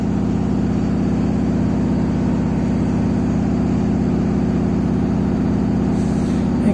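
A front-load washing machine sitting on a wheeled trolley spins at high rpm, giving a steady, loud, close mechanical hum that runs without a break and with no talk over it.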